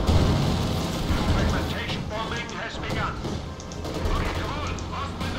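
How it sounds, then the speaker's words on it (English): Artillery shells and fragmentation bombs pound the battlefield in a Company of Heroes 2 match, a dense, continuous rumble of blasts and crackling fire with a voice talking over the barrage throughout. "Fragmentation bombing has begun."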